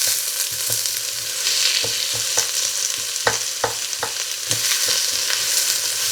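Onions fry in a pan for split pea soup, a loud, steady sizzle broken by scattered clicks and scrapes of stirring, with no talking.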